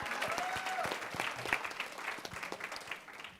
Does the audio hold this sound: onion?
no